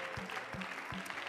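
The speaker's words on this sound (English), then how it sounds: "Would you give the Lord a hand clap with me tonight?" A church congregation claps along in worship, faint and distant, with a few rhythmic accented beats standing out from a soft wash of room sound.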